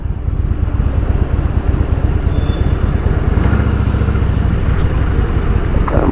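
A motorcycle cruises steadily on a ride, its engine a loud, continuous low drone with wind rumble close to the rider, with a slight rise in pitch partway through.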